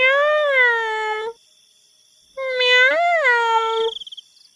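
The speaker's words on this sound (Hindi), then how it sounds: "बिल्ली फिर भूतिया रूप लेकर नेहा को आवाज लगाती है" A cat gives two long, drawn-out meows with a short silence between them, loud and close with no other sound, used as an eerie sound effect in a horror story about a haunted cat.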